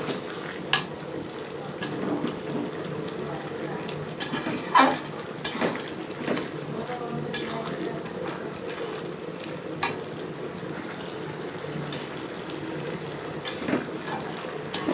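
Malabar spinach curry stirred in a metal pan after ground cumin goes in, with spoon scrapes and clinks tapping at an uneven, unhurried pace over a low, steady background.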